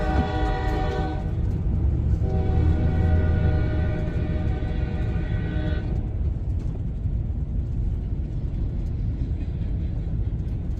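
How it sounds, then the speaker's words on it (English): A train passes near a residential development in Adairsville, Georgia, its horn blowing in long harmonic blasts over a heavy rolling rumble that continues steadily after the horn stops. "train coming."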